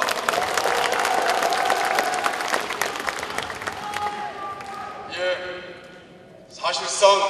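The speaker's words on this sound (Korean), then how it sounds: "그런 생각하시면 동력 박수 한번 보내주시기 바랍니다" A convention hall audience of Democratic Party delegates applauds loudly and steadily, then the clapping thins and fades into scattered claps with brief voices over it.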